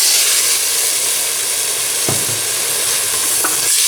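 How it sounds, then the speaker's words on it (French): Meat cooking with black pepper, salt and grated tomato purée is stirred in a pot set over a fire, giving a loud, steady sizzling hiss broken by a couple of brief stirring knocks. "Je mélange ma marmite toujours sur le feu pour que la viande s'imprègne de toutes les saveurs"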